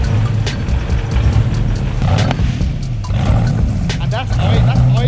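A car engine idles with a steady low rumble, close and loud, while people talk excitedly over it.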